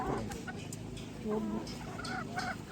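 Chickens cluck and squawk at a roadside seller's stall near Garh Panchkot in Purulia, several close, repeated bird calls rising over a busy murmur of background noise.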